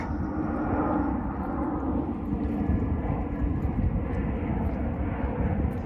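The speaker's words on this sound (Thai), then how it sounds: "เครื่องบินบินทุกวันนะพี่" An airplane passes overhead in an outdoor setting near Mount Fuji, a steady, loud, broad engine roar that stays constant for the whole stretch with no voices over it.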